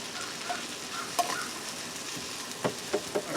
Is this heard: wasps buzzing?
no